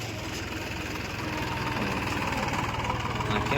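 A tractor engine runs steadily close by, a low throbbing idle with a rhythmic knock that grows slightly louder, without speech.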